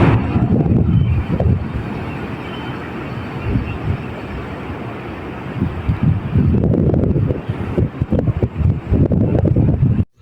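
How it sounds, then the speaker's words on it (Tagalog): Strong wind buffets the microphone at Abagatanen beach in Agno, Pangasinan, loud gusty rumbling roars that surge, ease off in the middle, then build again before cutting out abruptly. "Medyo may kalakasan nga pala dito yung hangin"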